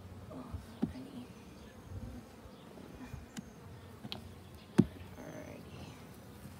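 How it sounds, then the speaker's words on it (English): Honeybees buzz around an open beehive while a beekeeper searches the frames for the queen, a faint steady hum with occasional brief knocks and handling sounds close by. "if you get the queen bee, then the rest of the hive is going to get mad at you"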